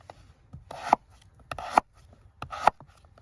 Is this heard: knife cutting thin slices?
yes